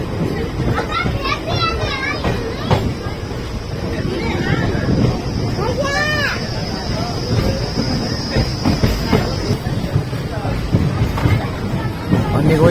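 An Indian Railways train rolls into Nigohi railway station on the Pilibhit to Shahjahanpur line, a loud continuous rumble with rail clatter, while children and other voices chatter throughout and a high tone briefly rings out.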